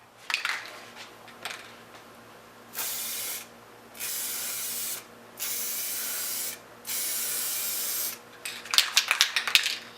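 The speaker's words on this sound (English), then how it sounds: "we're going to give this printed circuit board a couple of coats to protect it" Aerosol can spraying a protective coating onto an HVAC printed circuit board: four close, even hissing bursts of a few seconds each with short gaps, framed by light clicks and handling clatter at the start and end.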